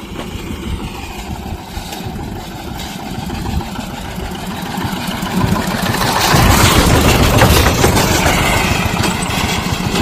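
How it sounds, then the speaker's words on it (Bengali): An engine van draws closer along a river embankment road, its steady motor drone swelling noticeably louder over the second half with no talk. "একটা ইঞ্জিন ভ্যান আসছে।"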